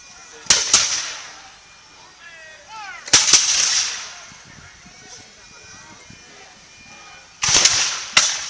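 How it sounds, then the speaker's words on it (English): Black powder guns fire at an outdoor historical reenactment, sharp booming reports landing in separate bursts, some doubled, among crowd voices, with occasional talk and faint bagpipes nearby. "These smoke rings come out of a lot of different guns."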